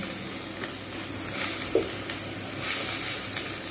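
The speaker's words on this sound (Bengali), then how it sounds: "এইবার আমি এর মধ্যে দিয়ে দেবো জিঞ্জার গার্লিক পেস্ট এটাও ভালো করে আমি কষিয়ে নেব" Ginger garlic paste sautéing in a pan over low heat for an egg korma, giving a steady hissing sizzle with a few faint scrapes and taps of a spoon.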